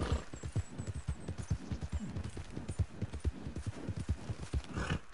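Steady clip-clop of horse hooves at a quick trot in the video game Red Dead Online, with a short high whinny breaking in near the start.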